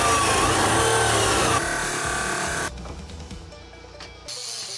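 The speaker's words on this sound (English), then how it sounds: "I got them strapped in my big Bertha red grinder cutting thing. I am gonna cut these ragged," An angle grinder cuts the ragged ends off ladder Damascus steel billets clamped in a big red grinder rig, a loud, dense, continuous whine and rasp that drops in level partway through, then briefly dips before picking back up.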